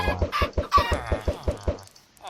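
Chickens in the Minecraft video game give a rapid, evenly spaced run of about ten clucks on a chicken farm, close and clear, ending in a brief pause.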